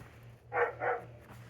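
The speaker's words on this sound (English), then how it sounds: "They bark." Two big dogs bark twice in quick succession, moderately close, outdoors at a home on a golf course fairway on a calm, cold, clear day, with a steady low hum underneath.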